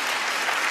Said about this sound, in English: Clap if you have anxiety